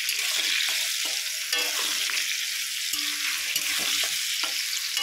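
Small cut ridge gourd pieces fry in hot oil while being stirred, a bright, dense sizzle with scattered spatula clinks and scrapes, close and continuous.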